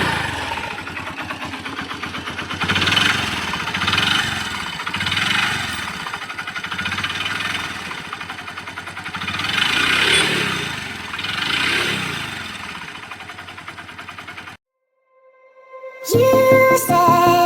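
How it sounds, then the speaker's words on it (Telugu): Rebuilt Honda Dream Yuga motorcycle engine running steadily close by, a loud continuous idle that swells and eases in slow rhythmic waves, cutting off near the end before a sharp burst of other sound. "ఇంజిన్ సౌండ్ అయితే ఒకసారి వినేయండి"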